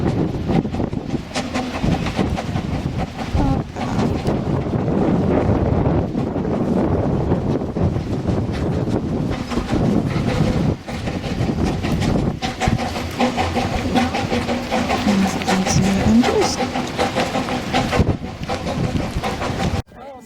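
Model train running on a garden shed layout, giving a steady, continuous rumble with faint rhythmic clatter, mixed with gusty wind noise on the microphone throughout.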